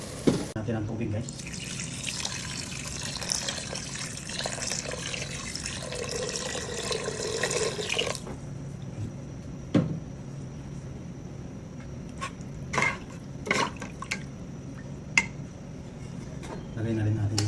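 Water pours steadily for several seconds in a rushing stream, then stops, followed by scattered clinks and soft kitchen sounds.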